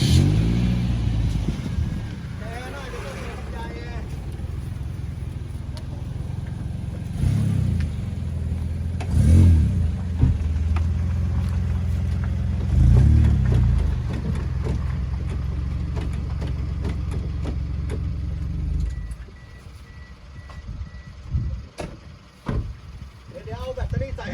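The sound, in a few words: Isuzu NKR110 truck engine running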